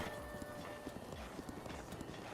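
A horse trots in Zelda: Breath of the Wild, its hooves clip-clopping in a quick, regular rhythm at close range over a soft game background.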